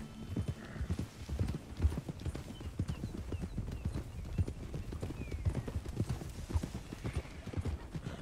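Horse hooves clip-clop steadily in Red Dead Redemption 2, a brisk even rhythm of close, distinct hoof strikes with a faint whinny, no talking over it.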